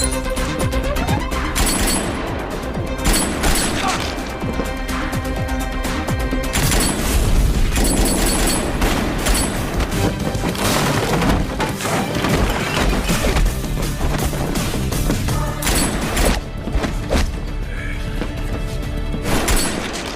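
Loud, dense action-film battle in a Korean thriller duel: repeated crashes, bangs and gun-like bursts over a driving music score, continuous and intense throughout with no talking.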